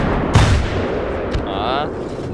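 A sharp, loud gunshot-like blast from a game, followed by a brief whooshing electronic sweep and steady background noise.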